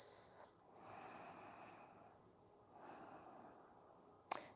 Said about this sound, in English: Breathing through your nose, long,